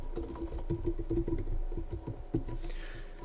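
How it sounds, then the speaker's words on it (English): Typing on a computer keyboard, entering a search term: a quick irregular run of clicking keystrokes, close and moderately loud, with no voices. "I'm going to take this term, concrete countertops, and I'm going to type it in up here."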